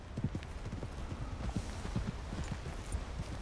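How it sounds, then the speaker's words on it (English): Horse hooves clip-clopping steadily at a walk in the video game Red Dead Redemption 2, a quiet, even rhythm of soft thuds over faint background ambience. "That's a fine horse you got there."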